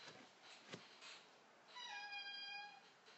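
A cat gives a single faint, drawn-out meow in a quiet room, heard alone at low level near the end.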